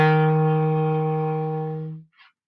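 A single clarinet note, steady and close, held for about two seconds in a band-rehearsal setting, then cut off and followed by a brief faint trailing blip. The full ta ta ti ta ta rhythm is not evident.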